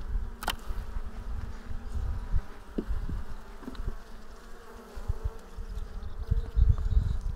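Honey bees hum and buzz steadily around a weak hive, a close, continuous drone with a few passing insects and faint handling knocks beneath it.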